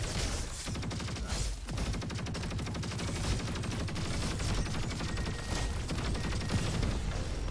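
The Quasar SMG in Roboquest fires continuously, a relentless, rapid buzzing stream of shots held at steady loudness throughout with no break for reloading.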